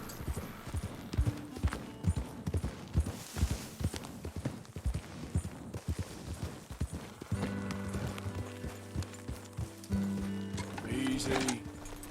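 A horse gallops in Red Dead Redemption 2, its hooves drumming a quick, rhythmic clip-clop close by, then a steadier tonal background joins in the second half.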